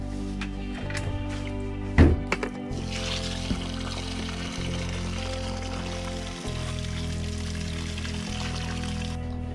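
Water pours steadily into a tub of soaking laundry, a continuous broadband rush with a brief clunk near the start, under a constant low mechanical hum.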